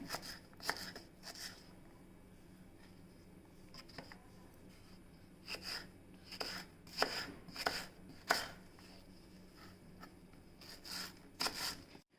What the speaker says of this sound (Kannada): ಸಣ್ಣದಾಗಿ ಹೆಚ್ಚಿಕೊಳ್ತೇನೆ.